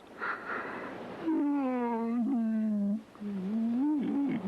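A drawn-out vocal yawn with a long sighing, groaning tone that rises and falls, followed by a second shorter yawn-like exhale.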